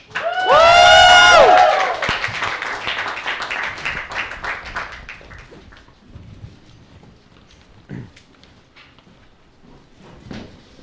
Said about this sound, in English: go ahead and round of applause for another sketch